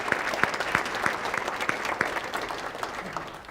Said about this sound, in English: Please join me in one more round of applause for the Resilient Monroe Green Map Initiative.